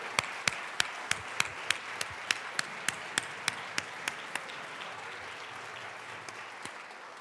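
An audience in the Colorado House chamber on a legislative day cheers, with sharp, evenly spaced claps ringing out over a broad wash of crowd noise that slows and thins toward the end.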